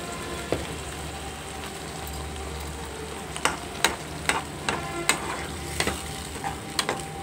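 Raw banana frying in a pan with ginger garlic paste and salt makes a steady low sizzle, then a run of sharp spatula knocks and scrapes in the second half, close by with no talk.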